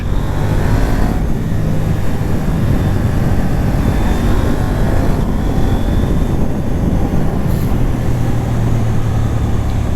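A KTM 890R Duke motorcycle rides at speed, its engine and wind roar loud and continuous, with brief changes in engine note as the quick shifter changes gears, including a clunky shift from second to third.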